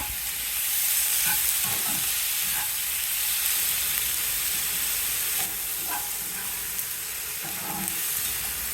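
Chopped tomatoes sautéing in a pan for paneer butter masala, a steady close hiss of frying with scattered soft scraping and stirring taps, no voices.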